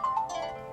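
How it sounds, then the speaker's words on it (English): A phone rings for an incoming call: a short electronic ringtone melody of bright stepped tones, clear and fairly close, with no talking over it. "Oh, getting a phone call."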